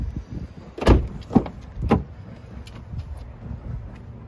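The rear door of a Land Rover LR2 being handled, three distinct solid thumps and latch clunks about half a second apart, close and loud, followed by softer handling noises.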